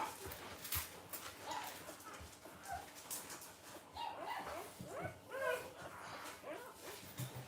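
High whimpers and yips from newborn puppies at a dog kennel come in short, scattered bursts over a busy, noisy background.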